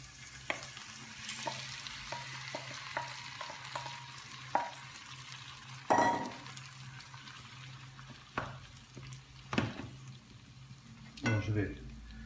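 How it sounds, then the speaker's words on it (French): Mushrooms hitting a pan of sweated onions for a cep and bolete risotto, a steady low sizzle of frying with occasional clicks and stirring scrapes, close and moderately quiet, no talking. "Je vais y mettre mes champignons."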